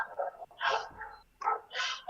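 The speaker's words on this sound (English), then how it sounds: "And there were many dogs barking outside." Several dogs barking outside, a few sharp barks and yips in short bursts separated by brief pauses, close and fairly clear with some breathy whimpering between.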